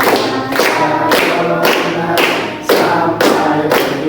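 Group hand clapping during a classroom sociodrama session: seven or eight loud, evenly spaced claps in a steady rhythm, close by, with no talking.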